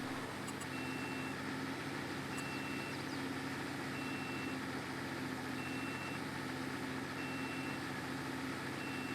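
A farm vehicle in Farming Simulator 22 idles with a low engine rumble under a faint, evenly repeating reversing beep that sounds at a regular rhythm throughout.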